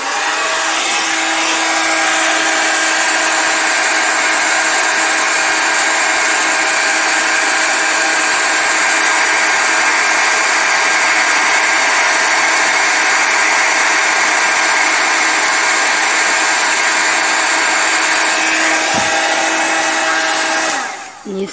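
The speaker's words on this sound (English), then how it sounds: "you should allow your embossing tool or heat tool to get warm a little bit first." A heat tool used for melting ultra thick embossing powder runs as a loud, steady high-pitched whir and blast of air, unbroken for about twenty seconds before cutting off at the end, close up and alone.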